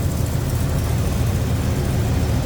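A steady low V8 engine rumble from a 1971 Oldsmobile 442 idles continuously, close and even, with no voices.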